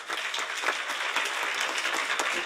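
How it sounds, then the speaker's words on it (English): Audience applause at a European skills conference plenary, steady dense clapping from a sizeable crowd, continuous and even for a couple of seconds. "You get applause."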